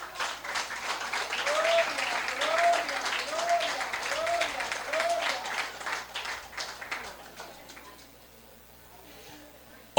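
A church congregation applauding during a sermon, a sustained burst of many hands clapping mixed with voices and cheering that gradually dies away into near silence.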